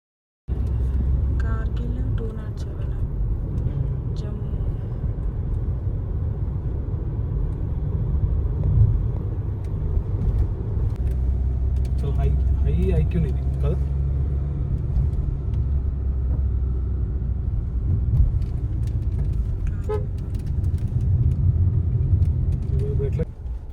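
A car drives along a long return road trip from Ladakh, its cabin filled with a steady, loud low rumble and road roar that continues without a break, while faint voices murmur now and then.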